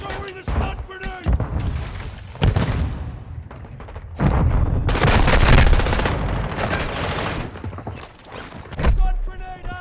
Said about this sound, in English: Throwing the stun grenade.